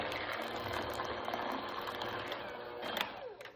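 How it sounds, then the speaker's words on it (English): A hand mixer whirs steadily through orange cake batter with vanilla, a quiet continuous motor drone with faint rattling of beaters against the bowl, running alone without speech. "Now I'm using my hand mixer because this recipe is really quick to put together."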